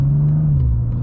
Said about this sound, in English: Quick little acceleration here.